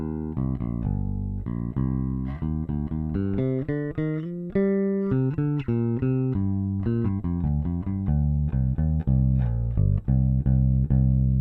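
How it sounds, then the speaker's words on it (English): An electric bass in passive mode, fitted with an E.W.S. Tri-logic preamp, plays a steady, deep bass line of plucked notes and short runs, loud and close with no talking over it. "So here's a little bit of the sound of the bass."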